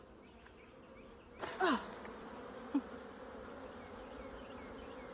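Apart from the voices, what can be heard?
honey bees buzzing during hive inspection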